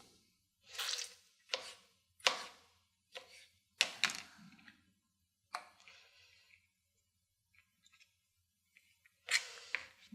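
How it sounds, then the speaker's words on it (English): Irregular knife strokes chopping tomatoes on a cutting board, several quick cuts spaced apart with quiet gaps between them. "So I'm chopping the tomatoes."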